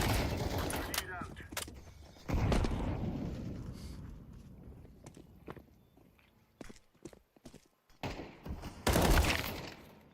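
AK gunfire in a multiplayer shooter video game rattles in loud bursts, with a heavy volley at the start and another near the end, scattered single shots and footsteps between, and faint chatter underneath.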